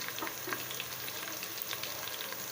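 White onion sizzling in hot oil in a pan, giving a dense, even crackle with small scattered pops that runs unbroken and fairly close.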